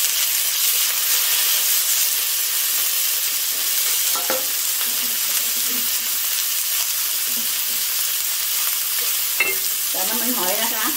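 Rice vermicelli and water mimosa stir-fried in oil in a wok: a steady, loud sizzle throughout, with utensil scrapes and stirring clatter breaking through now and then.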